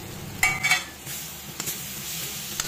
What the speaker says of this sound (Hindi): यहाँ पर मसाला तीन चार मिनट भून रही हूँ